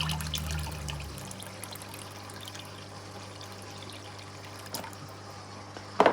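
Water is poured during an aquarium water change, a steady low trickle running for about a second before fading into quiet room noise, with a sharp knock near the end.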